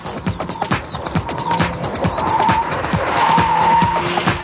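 An Alfa Romeo GT 2.0 JTS is driven at full throttle around a cone course, its engine droning steadily under repeated tyre squeals and skidding that grow louder toward the end.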